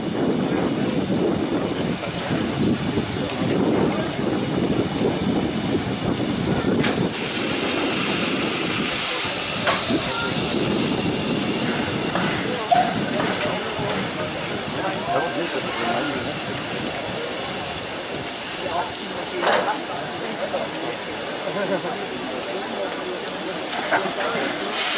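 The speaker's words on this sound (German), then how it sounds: "Vorsicht im Lokschuppen, Stand 7 kommt eine Lok rein." A steam locomotive at a Dresden steam locomotive gathering rolls into the engine shed, a loud continuous hiss of steam with rumbling rail noise that grows quieter toward the end.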